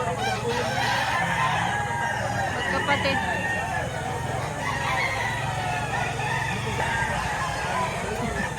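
Gamefowl roosters and chickens at a poultry market in Lipa, Batangas, crowing and clucking steadily at mid distance while people talk nearby and a car passes.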